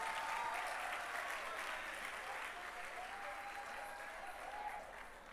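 Church congregation applauding for the pastor's wife, a sustained, dense wash of clapping from many hands that gradually eases, with faint voices and a few vocal tones woven through.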